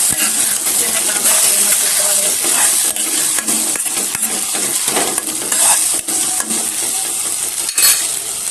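Ground chilli, ginger, garlic and tomato paste sizzles as it is stirred and roasted in a pan for fenugreek curry, with a steady loud frying hiss and repeated scraping strokes of the spoon.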